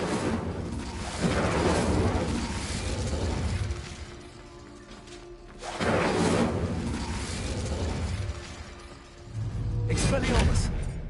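Incendio fire spell being cast in Hogwarts Legacy, heard as three loud whooshing, crackling bursts that come in waves, with game sounds and some voice mixed underneath.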